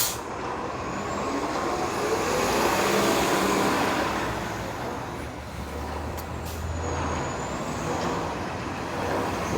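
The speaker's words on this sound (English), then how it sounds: "there's a 29 Dufferin bus that'll be heading down to Exhibition Place" A 29 Dufferin city bus rumbles along a busy Toronto street, its engine droning under steady traffic noise, with a brief sharp hiss of air brakes partway through.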